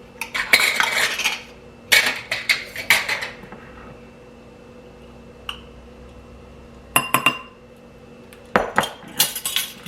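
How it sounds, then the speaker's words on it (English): Almond flour waffle batter with sweetener and baking powder being mixed in a bowl, utensil clinking and scraping against the dish in short bursts separated by quiet pauses. "Get this mixed in together,"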